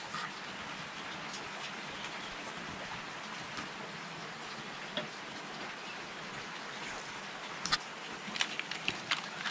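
Heavy rain falls steadily outside, a dense continuous hiss that fills the whole stretch, with a few brief closer knocks and clatters near the end and no talking.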